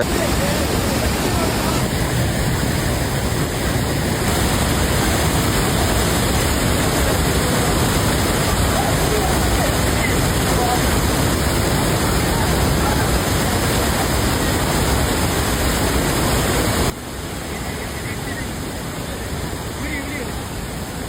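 Floodwater pours down the Courtallam waterfall after continuous rain, a loud, dense and unbroken roar that holds steady throughout, then drops a little in level near the end.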